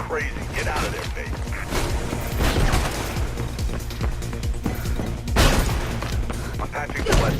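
Gunfire rattles in the video game Mirror's Edge in loud repeated bursts and thuds, mixed with crashing game effects and tense background sound across the whole stretch.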